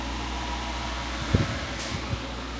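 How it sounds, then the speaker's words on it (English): An air conditioner blasts inside a room during a road trip, a steady loud broadband whoosh filling the space, with a few faint soft bumps and no talking. "we got the air conditioner blasting here"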